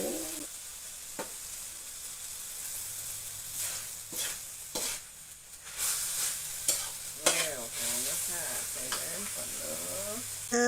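Pork stir-frying in a hot pan, with a steady sizzle broken by scraping and stirring strokes and a faint voice in the background.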